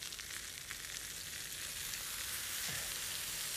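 Paella with tomatoes and roasted peppers sizzles and fries in a pan, a soft continuous crackling hiss up close with an occasional faint stir.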